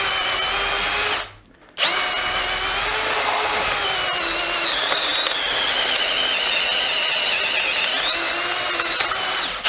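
Bosch GSB 18V cordless drill running hard under load, a loud sustained whining motor drone with shifting pitch, briefly stopping after about a second before resuming steadily until the end.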